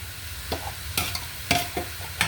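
Beef fries in a pan with a low steady sizzle, broken by several sharp scraping strokes of a spatula stirring the meat at irregular intervals.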